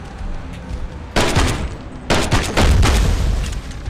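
Bursts of gunfire from the VR shooter Death Horizon: Reloaded, a loud volley around the one-second mark, another near two seconds, then sustained rapid shots continuing to the end, close and dense with no talking.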